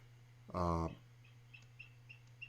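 Live audio from an eagle nest camera at White Rock, a single short harsh bird call up close, then faint scattered chirps over a steady low hum.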